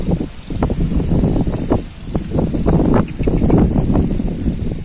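Strong wind blowing outdoors under a darkening sky ahead of a storm, with steady roaring gusts buffeting the microphone and rustling nearby foliage throughout, loud and continuous with no speech.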